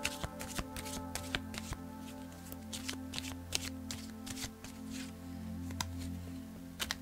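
Tarot cards being shuffled and drawn, a quiet run of quick, irregular riffling clicks and soft slaps spread across several seconds, with no talk.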